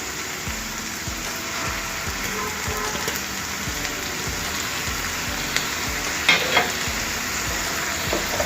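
Chana leaves frying in hot oil and being stirred, a steady close sizzle under rhythmic scraping strokes, with a couple of sharper clinks near the end and no talking.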